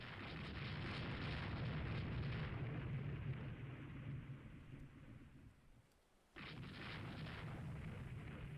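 Naval guns fire in the warship strategy game Rule the Waves 3 as a dense, continuous rumbling barrage of booms. It fades briefly to a near lull, then surges back just as heavy.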